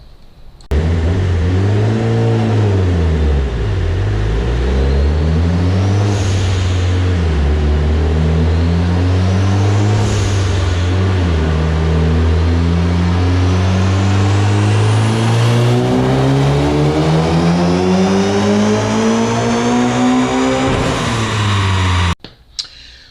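A Mitsubishi EVO 9 with an HTA71 turbo and Kelford 272 cams on a dyno, loud and close: the engine drops, then climbs in one long sustained pull to a high-pitched roar before cutting off abruptly.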